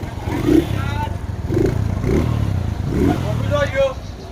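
A motorcycle engine rumbles and revs nearby while several people talk and shout over it.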